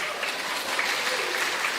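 A church congregation claps during a sermon, a dense and even patter of many hands that holds steady throughout without any voices.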